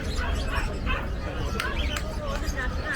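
Small Fox-type Pomeranian, teacup size, yipping and barking amid the steady hubbub of a busy pet market, with people talking nearby throughout.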